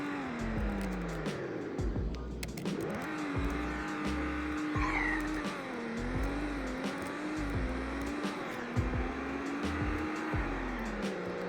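A BMW Z4 in a Roblox driving game accelerates hard from a standstill, its engine revving up through a series of rapid gear shifts with rhythmic pulses, steady and loud with no speech.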